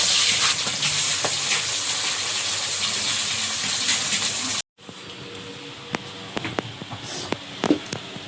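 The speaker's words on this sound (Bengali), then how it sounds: "সব মাছ ভাজা কমপ্লিট" River pomfret fish frying in hot oil in a kadai, a loud steady sizzle with crackles, then a brief cut and quieter spattering with sharp pops and clinks.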